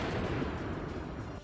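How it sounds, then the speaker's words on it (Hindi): Missile blasts from Chinese multiple launch rocket systems during a military drill, a sustained, dense low rumble of booming detonations that rolls on without pause, loud and continuous. "इस बार ड्रिल का जो वीडियो आया वो पहले से ज्यादा खतरनाक था, जिसमें चीन की मिसाइलों से होने वाला धमाका चारों तरफ गूंज उठा।"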